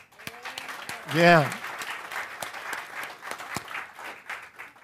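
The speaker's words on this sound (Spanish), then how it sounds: "Vamos a darle un aplauso." Church congregation applauding a graduate, scattered hand claps of moderate loudness running throughout, with a brief voice rising over them near the start.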